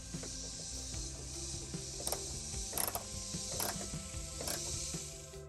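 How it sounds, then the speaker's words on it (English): Ratchet wrench tightening bolts on a snorkel bracket of a Toyota Hiace, a close series of rapid mechanical clicking bursts with short pauses between strokes. "Tighten up these bolts here."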